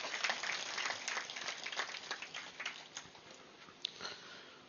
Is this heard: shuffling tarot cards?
no